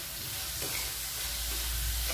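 Grated bottle gourd simmering in reducing milk for barfi is stirred in a pan, a soft steady scrape and gentle bubbling with faint low hum, no talking.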